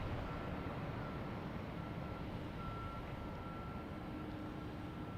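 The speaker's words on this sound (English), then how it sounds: "we have United Airlines 737-900 coming in from Newark" A United Airlines Boeing 737-900 arriving at Boston Logan from Newark, heard as a steady distant jet roar with a faint whine, continuous and fairly quiet, no voices.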